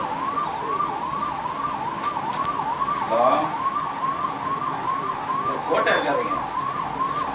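An ambulance siren wails in a steady rising-and-falling cycle throughout, loud and nearby at the Sankarankovil railway gate, with faint traffic and brief Tamil voices in the background.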